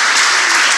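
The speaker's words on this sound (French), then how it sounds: "On va les applaudir pour les encourager" Audience applause at an IoT forum awards session in Tunisia, a brief loud burst of dense clapping from a full room, steady for under a second.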